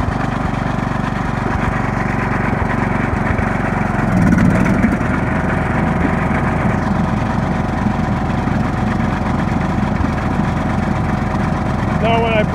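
A John Deere lawn mower engine runs steadily at close range, a loud continuous low drone with a brief surge partway through as the grass cutting blades are engaged; a voice talks over it.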